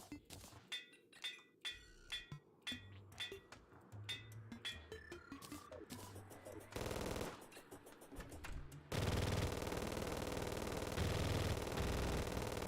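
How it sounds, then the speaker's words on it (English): Rapid chain gun fire in Terraria with the Calamity Mod, a fast rhythmic stream of sharp shots mixed with chiming hit and pickup sounds, then dense continuous roaring noise late on, fairly quiet overall. "Chain gun is usually a very strong weapon at this stage of the game."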